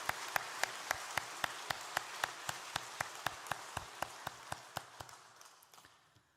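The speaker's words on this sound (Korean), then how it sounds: "우리 다시 한번 우리 뜨거운 박수로 격려해 주시면 감사하겠습니다." During a Korean Sunday church service honoring Children's Day, the congregation claps in a slow, steady rhythm, a dozen or more evenly spaced beats over a soft wash that fades out at the end.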